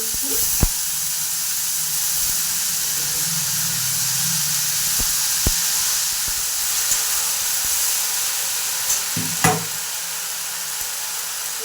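Tomatoes, cauliflower and green chillies frying in a hot kadai, a steady loud sizzle throughout with scattered clicks and scrapes of stirring, no voices over it.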